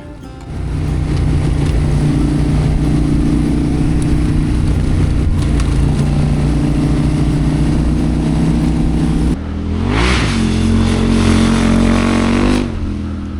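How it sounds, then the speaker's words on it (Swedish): Motorcycle cruising on winding country roads through Blekinge forest landscape, a steady loud engine drone with wind rush that shifts pitch as the bike changes speed, rising again after a brief dip near the end. "jag är med hojen igen och njuter av vägarna"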